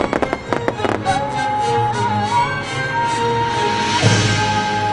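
Fireworks at a free nighttime concert at the Hollywood Bowl with an orchestra, a few sharp bursts early on, then a sustained crowd-and-music wash with tonal lines and another thump near the end.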